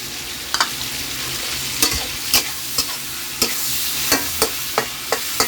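Mixed vegetables stir-fried with chili paste oil and fresh shrimp sizzle steadily in a pan, a splash of water added, with sharp utensil scrapes and clicks recurring every half second or so over the continuous hiss.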